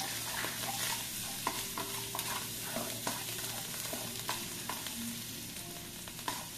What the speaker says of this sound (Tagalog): halo-halo po natin yung bawang po.